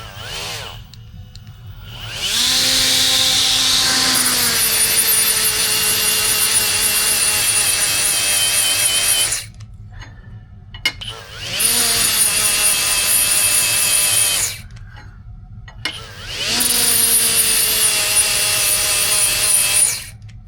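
A 3M bristle disc on a rotary tool spinning at 20,000 RPM grinds into aluminum in three long, loud, high-pitched whining bursts, each rising as the tool spins up, with short quiet pauses between them.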